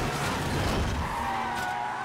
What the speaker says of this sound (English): The engine just busted.